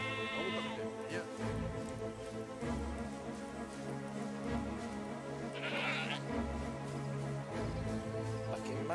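Sheep in the video game Valiant Hearts bleat in drawn-out, wavering cries, one at the start and more later, over a steady background of game sound like falling rain and low rumble.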